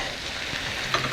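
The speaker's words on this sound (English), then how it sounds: "we're going to scramble them up" Cracked eggs scramble in a frying pan beside fried rice, giving a soft, even sizzle throughout with a brief utensil scrape near the end, and no voices.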